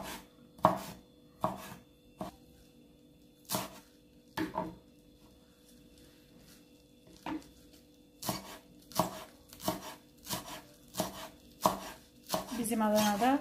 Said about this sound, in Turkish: hayatta en zor şey pişmiş soğan doğramak